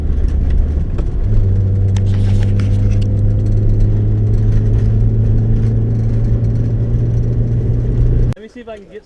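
Steady engine drone of a car being driven during a Nevada prospecting trip, loud and continuous for about eight seconds with a constant low hum, then cutting off abruptly near the end.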